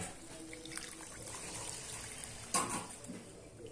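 Warm water pours into mutton paya gravy, a soft, steady trickle at close range, with a brief splashier burst partway through and no voices.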